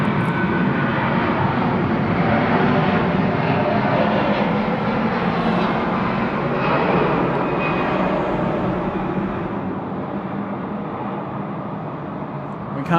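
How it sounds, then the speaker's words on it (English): AirAsia X airliner rolling for takeoff on runway 16R at Sydney Airport, a sustained loud jet engine roar that stays strong and steady throughout and eases only slightly toward the end. "The AirAsia X now rolling 16 right."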